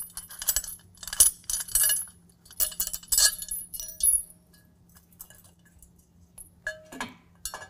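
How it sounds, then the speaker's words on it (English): Metal coupler bolts from a utility trailer are pulled out and set aside, making bright clinks and metallic taps in irregular clusters up close, then quieter rattles near the end, with no voices. "we're going to turn that upside down, we're going to pull the bolts out of it"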